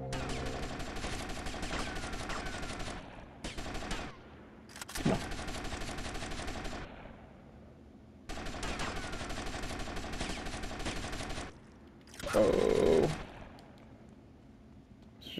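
Sustained automatic gunfire in GTA Vice City Definitive Edition, with long dense bursts of rapid shots broken by brief pauses and a louder blast near the end, close and alone with no talk.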